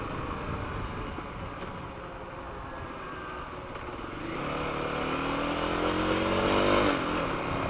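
A Kawasaki KLX300 dirt bike rides along neighborhood streets, its single-cylinder engine droning steadily and then swelling louder as it accelerates, heard from on board with wind rush.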